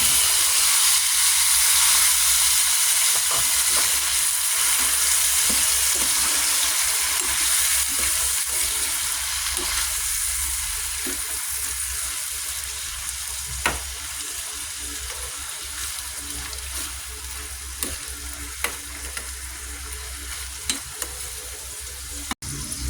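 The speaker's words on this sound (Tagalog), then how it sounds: "Okay na yung ating garlic. So ilagay na natin ang ating shrimp. Satuin mo natin." Shrimp sautéing with garlic in a pan, for buttered shrimp, making a loud, continuous frying hiss that gradually softens, broken by occasional sharp utensil clicks.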